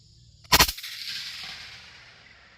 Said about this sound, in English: Coming off of the table, and fire when you're ready.